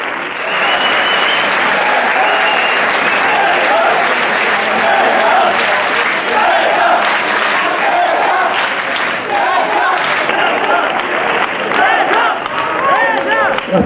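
Loud, continuous applause and cheering fill the hall at a Manresa basketball team presentation, with a large crowd clapping and shouting together throughout.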